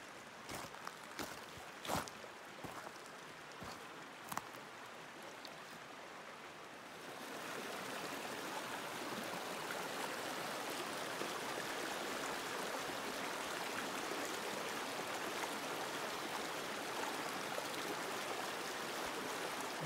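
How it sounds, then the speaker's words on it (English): Steady rushing water in a creek after heavy rain fills the air, a broad continuous roar that swells in after a few faint clicks and taps at the start. "you can definitely hear water rushing"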